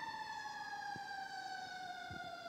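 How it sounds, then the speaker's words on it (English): Fire engine siren wailing loud and steady as it drives past a city hall courtyard festival, its pitch sliding slowly downward, with faint thumps beneath. "I don't know why I'm fighting with the ambulance. Actually, a fire engine."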